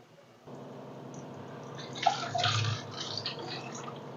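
Water poured from a tumbler into a pot of simmering channa dal curry (kadalai kulambu), a soft splashing pour that swells briefly in the middle then settles into a gentle bubbling trickle, close and with no talking.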